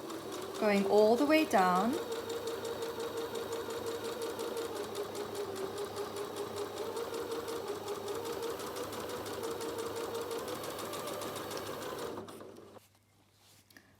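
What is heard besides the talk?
sewing machine sewing a zip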